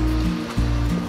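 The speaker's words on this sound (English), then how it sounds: "Hear the water?" Water of a flowing lake at a Pennsylvania state park rushes close by, a loud, steady wash with a low droning undertone and no voices.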